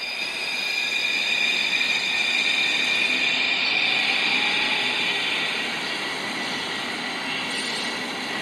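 A train rumbling along in the Roblox game Mega Miners, a loud continuous mechanical roar and hiss that holds steady throughout with no talking.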